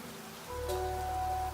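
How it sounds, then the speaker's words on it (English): Rain in a video game begins abruptly, a steady hiss of falling drops that sets in after a quiet moment and continues evenly, fairly soft and without talk. "Okay, it's raining, which is normally a good sign if we have a berry bush that we can eat from around."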